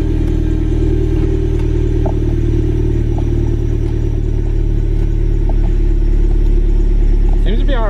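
A Toyota MR2 fitted with a short shifter idles and runs on a cold 31-degree day with the top off, a loud, steady low engine drone with light clatter, while someone talks over it.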